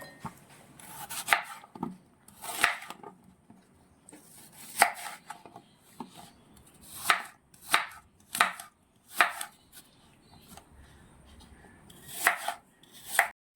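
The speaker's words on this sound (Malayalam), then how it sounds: "ഇനി നമുക്ക് ആപ്പിളും കൂടി അരിഞ്ഞെടുക്കാം." Apple being chopped into small pieces on a board for a fruit salad, a run of sharp knife knocks in irregular clusters, close and clear over a quiet background.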